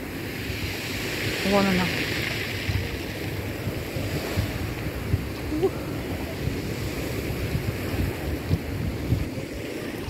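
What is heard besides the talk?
waves of slightly stormy Adriatic Sea at sunset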